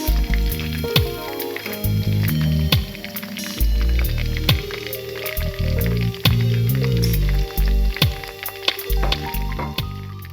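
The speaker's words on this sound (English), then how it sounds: "Frying process for this beef is really short." Beef strips fry in a pan for stir-fried noodles, a continuous loud sizzle broken by repeated sharp clacks and scrapes of a utensil against the pan.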